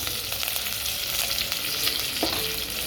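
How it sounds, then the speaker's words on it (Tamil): Loud, continuous crackling and popping of cumin and fennel seeds sizzling in hot oil, close up, with no voices. "இப்போ எண்ணெய் சூடாகிடுச்சு இதில் வந்து நம்ம கொஞ்சம் சீரகமும் சோம்பும் தாளிக்கிறதுக்காக போட்டுக்கலாம்"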